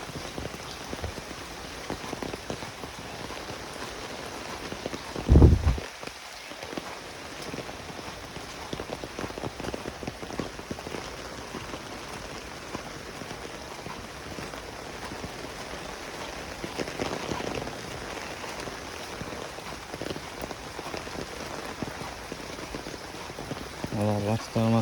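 Steady rain pours onto a broken road outdoors, a dense constant hiss lasting throughout, with a brief louder thump near the start.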